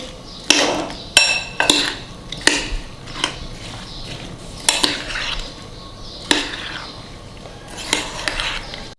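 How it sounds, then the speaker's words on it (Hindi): A spoon mixes fruit cocktail into a Russian-style fruit salad in a bowl, giving irregular clinks and sharp taps against the bowl with soft scraping between them, close and clear. "फिर हम डालेंगे फ्रूट कॉकटेल, इसको मिक्स करेंगे"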